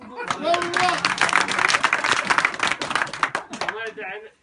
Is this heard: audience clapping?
yes